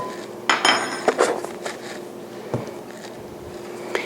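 A half-teaspoon metal measuring spoon clinks against a bowl while salt goes into a gluten-free dry mix, a few light close taps and chinks clustered early, then one more small clink later.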